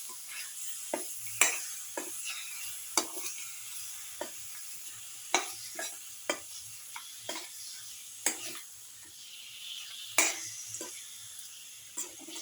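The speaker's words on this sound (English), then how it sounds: "thoroughly mixing the mutton ribs with the rest of the mixture." Mutton ribs get stirred through a spicy mixture in a hot pan, with a steady low sizzle broken by scattered scraping clacks of the utensil against the pan, close and fairly quiet, with no voices.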